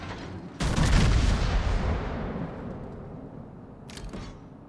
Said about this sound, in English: so I'm going to shoot the farthest one